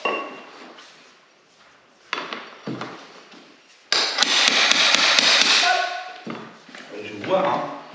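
High-end parquet flooring being knocked into place with a pull bar, giving a series of sharp metallic taps and bangs, the loudest burst near the middle, with some handling noise around it.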